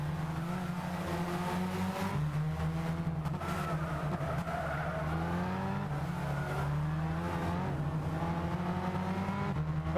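Race car in the Gran Turismo 6 video game: a steady, moderately loud engine whine that rises and falls with shifting pitch through gear changes and cornering, with faint tyre squeal at times.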